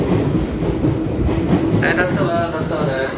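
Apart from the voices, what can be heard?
JNR 211 series train departing Tachikawa station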